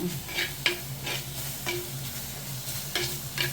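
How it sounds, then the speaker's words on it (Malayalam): Onions sauté in hot oil in a pan, giving a constant sizzle punctuated by several sharp stirring scrapes and clacks at irregular intervals, close and with no voices. "അതുകൊണ്ടാണ് ഞാൻ എണ്ണയിലൊന്ന് ഉള്ളി വാട്ടുന്നത്."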